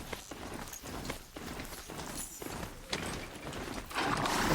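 A mount trots in Horizon Zero Dawn, its hoofsteps making a steady, repeated clopping that stays close, joined by a rising rush of noise near the end.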